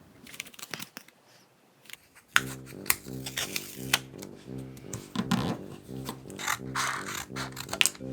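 Scissors slice through an A7 paper diary insert, cutting it in half during diary decorating; a quiet start gives way to a run of close, rhythmic crisp snips and paper rustles, with no talking.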